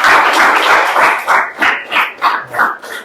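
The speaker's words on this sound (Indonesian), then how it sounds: "Tepuk tangan dulu untuk kelas 7." A class of seventh-grade students claps together in a classroom, dense applause that swells at first, then breaks into a few rhythmic bursts of claps near the end.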